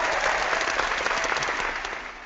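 A round of applause greets a New York City councilman from District 14 who is a guest on an interview show: dense, loud, steady clapping that fades slightly toward the end, with no talking over it.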